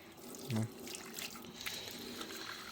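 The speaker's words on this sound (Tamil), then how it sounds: "இதில் வந்து சரியான சுடு தண்ணி வரும்." Hot water runs from a tap at a mountain pilgrimage rest stop on Adam's Peak, a soft steady flow heard faintly under background murmur and a brief low thud.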